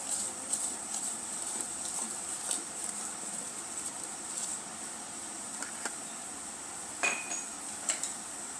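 Bhajiya batter with sugar being mixed in a bowl, soft scraping and light clinks of a utensil against the bowl, close but faint, over a quiet steady background hiss.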